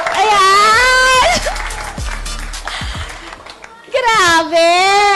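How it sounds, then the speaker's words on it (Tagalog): An audience applauds and cheers at a live event honouring a mentor, with loud, excited voices shouting over and between the clapping. "Huwag tumigil sa pagpapalakpak!"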